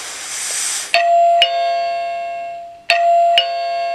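A breath of blown air hits the sensor's microphone, and an EchoChime300 wireless chime answers with two clear, ringing ding-dong tones that repeat once.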